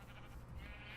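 Sheep in Minecraft give a quick, quiet bleat, a brief quavering baa lasting about a second with no talking over it.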